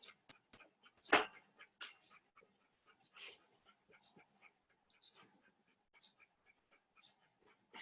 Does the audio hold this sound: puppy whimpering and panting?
yes